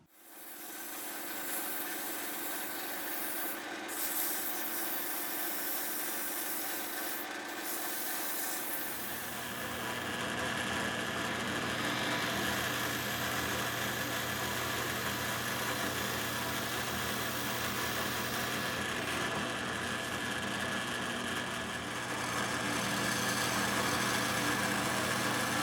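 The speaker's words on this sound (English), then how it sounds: "I'm drilling these out with a 7/8 inch bit that happens to fit the candles that I have" Drill boring holes with a 7/8 inch bit into wood for candle cups, a steady loud grinding whir that grows heavier partway through and runs continuously without talk.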